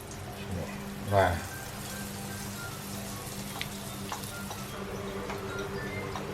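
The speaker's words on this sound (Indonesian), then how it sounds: "Nah, sekarang aku mau goreng yang ronde kedua nih, ya." Banana sticks frying in hot oil in a home kitchen, a steady close crackling sizzle running throughout, with a brief louder clatter early on and occasional small pops and scrapes.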